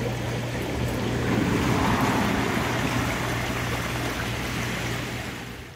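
The jet pump two of a Coast Spa hot tub runs close by with a loud, steady churning water rush over a constant low motor hum.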